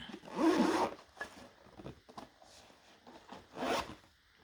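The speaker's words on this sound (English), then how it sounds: "little zippers go this way" Small zippers on an action camera accessory case are pulled open in several rasping strokes, one long drawn zip near the start and another near the end, close and fairly quiet.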